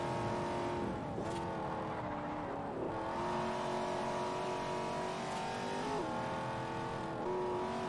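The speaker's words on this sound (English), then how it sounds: "I think that was a Prius." A Toyota Prius races past in a Forza Horizon street race, its engine tone rising and falling with gear shifts over a steady, loud motor drone from the player's own car.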